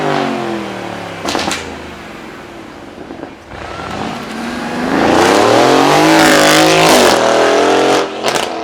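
A V8 supercar engine roars and revs hard at a racing event, rising and falling in pitch, loud and close with no talking.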